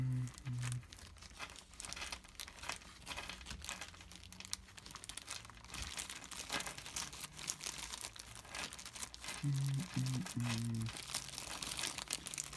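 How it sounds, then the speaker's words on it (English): A hand rummages through a plastic bag of RC car parts, giving near, continuous crinkling and rustling with a few sharper crunches. "I'm just trying to go through this bag here."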